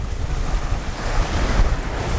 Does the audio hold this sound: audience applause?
no